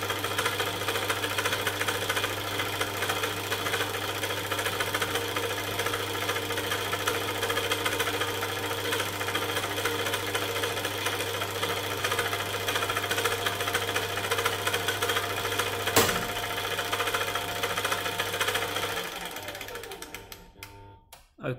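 A torsion testing machine slowly twists a 0.4 carbon steel sample, giving a steady mechanical hum with a faint ratcheting texture, then a sharp crack before the drive winds down and stops.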